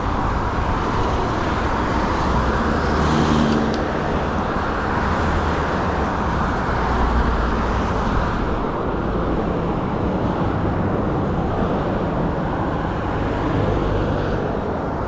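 Heavy road traffic streams past a cyclist riding the sidewalk on an upper Pinellas Trail loop, a steady, dense roar of passing cars that barely rises or falls and carries no talk.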